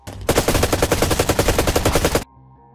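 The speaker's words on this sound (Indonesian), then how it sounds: "Tragis bagi Kapten Darwis yang ditembak mati oleh komplotan teror Ridau ini" Sustained automatic gunfire in a war-action film scene, a rapid, loud, continuous burst of shots lasting about two seconds that stops abruptly, leaving faint background sound.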